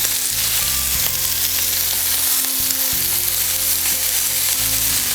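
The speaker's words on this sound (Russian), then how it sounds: "Кладу котлеты" Hamburger patties sizzle loudly in a smoking-hot pan, a constant crackling fry in lamb fat with a low hum underneath and no talking.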